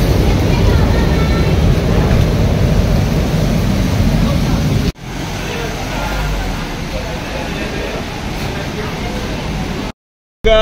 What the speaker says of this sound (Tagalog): Umuulan, bumabagyo.